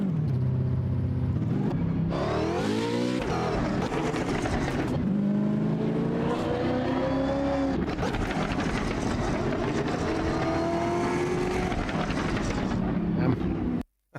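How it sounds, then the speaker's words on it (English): A race car engine in Automobilista 2 screams through repeated upshifts, each gear rising in pitch before dropping, loud and close with a harsh buzzing edge throughout. "I didn't expect this car to be this great in sound-wise."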